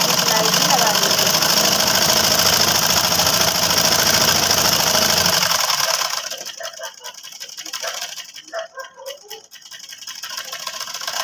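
Sewing machine stitching a flat seam on a kurti, a loud, continuous close motor whir for several seconds that then stops, leaving quieter intermittent clicks and a brief restart.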